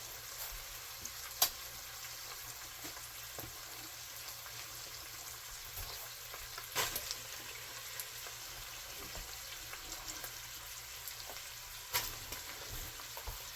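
Onions fry in a soup pot for lasagna soup, a soft, steady sizzle running throughout at moderate distance, with a few faint clicks and taps of stirring scattered over it.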